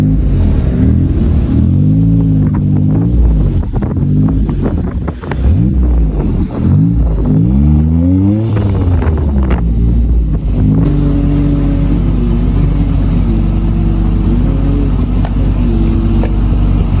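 A manual car at Monterey Car Week revs loudly and close by, its engine pitch climbing and falling in repeated sweeps before it settles into a steady, throaty idle for the last several seconds.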